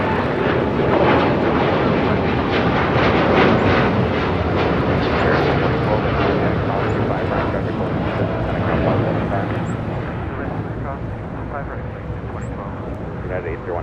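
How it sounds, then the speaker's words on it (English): A United Boeing Dreamliner jet airliner bound for Hong Kong roars past, a broad steady rumble that slowly fades, with people talking over it. "That was flight heading to Hong Kong, that United Dreamliner"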